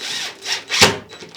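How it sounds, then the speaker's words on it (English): A power drill boring holes into a studio wall in search of a stud, loud and close, with rising and falling whine in short surges and a sharp bite into the material partway through. "Just drill holes till you hit a stud."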